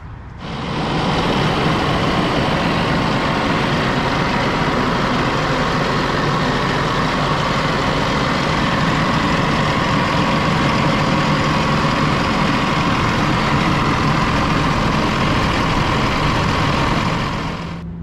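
A Mahindra 6065 PST 4x4 cab tractor's diesel engine idles steadily with a low rumble, running continuously at an even level from start to finish with no talking.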